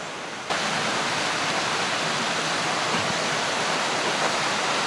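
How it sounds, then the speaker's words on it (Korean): A natural mountain valley stream flows beside the path to the old Yongdamjeong site. It makes a steady, close, full rushing wash that holds even throughout, with no voices. "자연적인 계곡, 물이 오르고 있고요."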